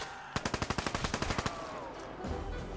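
P90 submachine gun firing in Call of Duty Black Ops III zombies mode: a rapid burst of about a dozen sharp shots lasting just over a second, followed by trailing game ambience.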